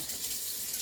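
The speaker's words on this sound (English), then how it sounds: "So, rinse your beaters off" Mixer beaters rinsed under a running kitchen tap while making sweet potato pie, a brief steady hiss of flowing water, fairly loud and close, with no voices.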